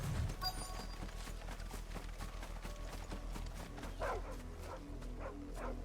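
Dog barking in the video game Final Fantasy XVI, a series of quick barks repeating through the scene over steady game ambience, with a couple of louder yips near the end.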